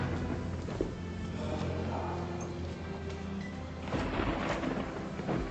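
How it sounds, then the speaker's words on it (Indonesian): Rain sets in as a storm begins in an Indonesian drama, with a steady broadband hiss of falling drops and a low rumble that swells slightly toward the end, with no voices. "Sudah mulai hujan tuh."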